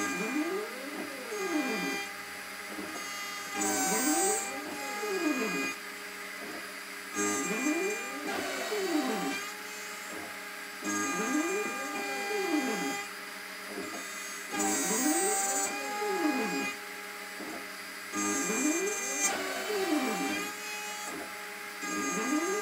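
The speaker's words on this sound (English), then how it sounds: "I'm still using the 6mm router cutter." CNC router with a 6mm cutter milling a guitar neck, a steady motor whine under repeating sweeping cuts that rise and fall in pitch as the bit makes passes every few seconds, moderately loud and continuous with no talk.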